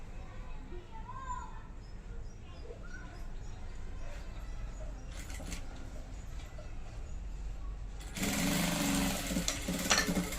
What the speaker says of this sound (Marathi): अगोदर एक पाव इंचापेक्षाही कमी शिलाई देऊन घ्यायची आहे दोन्ही पार्टला